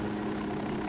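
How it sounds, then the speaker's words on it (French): Steady helicopter rotor drone from a medical helicopter in the tactical shooter Ghost Recon Wildlands, a continuous low thrum at moderate level with no talk. "le gros hélicoptère en plus. Ouais, c'est un hélicoptère de médecin."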